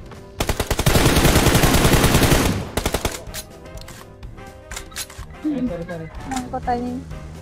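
Automatic gunfire in the mobile game PUBG Mobile, a rapid loud burst of shots lasting a couple of seconds, followed by scattered single shots and game effects while people talk.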